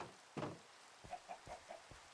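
A chicken in the Minecraft video game clucks in a short run of about five soft, evenly spaced calls after one louder burst, faint and alone.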